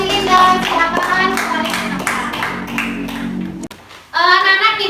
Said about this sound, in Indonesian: tepuk tangan untuk kelompok silinder